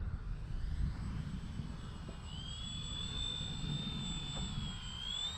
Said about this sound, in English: let's see if I can maybe land this plane.